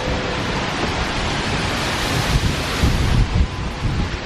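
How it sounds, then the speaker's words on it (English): Strong wind roars steadily through trees outside a parked camper van in Denmark, a continuous broadband rush with louder gusts swelling near the end, heard from inside with no talking. "Outside the trees are going insane. Yeah, it's really windy."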